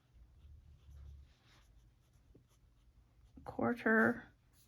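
A pen writing by hand scratches softly and faintly on paper for a few seconds, followed by a brief spell of talking.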